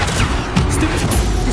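Bombarda blasting spell explosions in Hogwarts Legacy combat, heavy low rumbling booms with a crackling burst near the middle, loud and continuous with no clear gaps.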